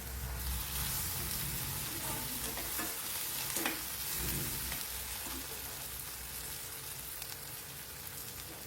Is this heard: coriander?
yes